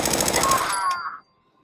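Rapid automatic gunfire from Fallout 4 rattles loudly for over a second in a dense burst, then cuts off abruptly, leaving a short ringing tail and near silence.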